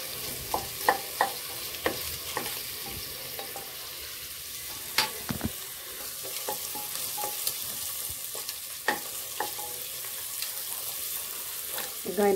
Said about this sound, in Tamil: வெங்காயம் போட்டேன், வெங்காயம் நல்லா வதங்கிட்டு இருக்கு.